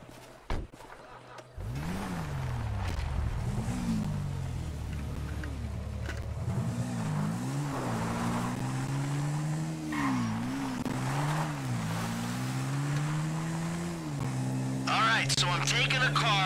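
A car is driven in Grand Theft Auto V, its engine droning and rising and falling in pitch as it accelerates and revs, with game voices talking over it and a brief burst of other sounds near the end.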